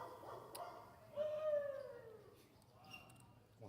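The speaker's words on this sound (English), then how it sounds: "Is that a dog out somewhere at the outer tables?" A dog yelps and howls somewhere out at the outer tables of a poker tournament room, a rising-and-falling whine with a short bark, faint and distant under the murmur of the room.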